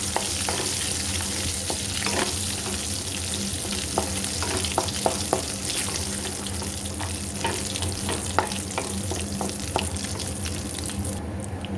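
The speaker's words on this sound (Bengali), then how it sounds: "তেলটা গরম হয়ে গেছে, এখন আমি শুকনো লঙ্কাটা দিয়ে দিলাম" Dried red chillies dropped into hot oil in a pan, with a bay leaf, give a steady, close sizzling hiss throughout, broken by sharp pops and spatters and the scrape of stirring.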